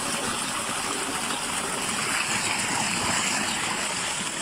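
A solar-powered 20 HP tubewell motor pumps clear water through a 6-inch outlet, and the water gushes out in a loud, steady, close rush of broadband splashing that never lets up.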